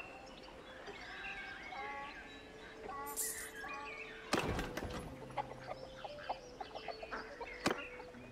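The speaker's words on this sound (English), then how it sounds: "the chickens are making chicken noises" Chickens in a village in the medieval video game Mount & Blade 2: Bannerlord, clucking and calling softly and fairly far off, with scattered bird chirps and a few sharp thumps and clicks of game sounds, no talking.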